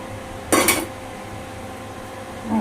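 A single short clatter of a spoon against a pan as about a spoonful of cornflour goes into broccoli and gets mixed, followed by a quiet hum and a faint knock near the end.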